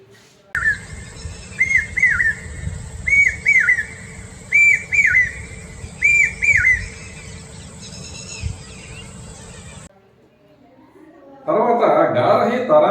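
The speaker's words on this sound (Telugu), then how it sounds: "చాతక్ పక్షి సౌండ్." A pied cuckoo (chatak bird) gives a repeated series of clear, rising whistled calls in regular bursts, loud and close, followed by a short pause and then someone speaking.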